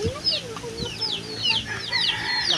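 Chickens cluck and a rooster calls on a Philippine farm where a coop is being built, with young chicks present. The calls are close and repeated, mixed with faint high peeps, and there is some background noise.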